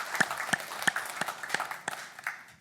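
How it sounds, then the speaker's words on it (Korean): A church congregation at a Korean Sunday service claps for members' birthdays, a thin scattering of distinct hand claps in a loose, fairly steady rhythm. "여러분 축복하면서 축하하는 박수 한번 하셨으면 좋겠습니다"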